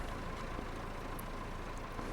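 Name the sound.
tractor engine idling in a farming video game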